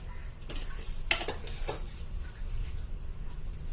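Peanuts drop into hot coconut oil in a pan while mutton korma is being prepared, a quick clatter of nuts and a metallic clink over a faint low sizzle, then quieter frying.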